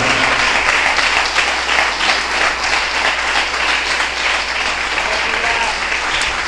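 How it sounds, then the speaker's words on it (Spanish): A church congregation applauds for Jesus during an evangelist's service, a dense, steady wash of many hands clapping at once that stays loud and even throughout, with a voice faintly under it. "Démosle un aplauso a Jesús para continuar"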